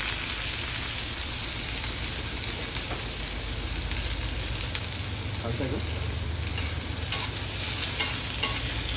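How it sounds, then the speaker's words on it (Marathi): Finely chopped onion and green chillies fry in hot oil, giving a constant loud, hissing sizzle close by, with occasional faint clicks of a spatula turning them in the pan. "कांदा आणि मिरची मस्त तेलावर मारून घेऊया"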